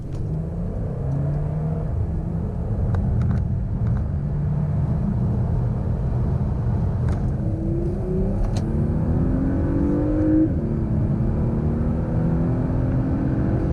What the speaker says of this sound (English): So let's see if the torque of the diesel can close the gap on the 30 to 70 sprint.